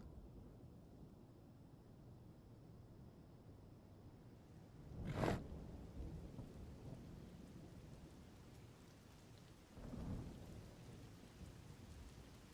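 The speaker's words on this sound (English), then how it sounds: "Of course, it starts to rain." Steady rain hissing on a surface, broken by a sharp close thunder crack and a softer, more distant rumble a few seconds later, with no voices.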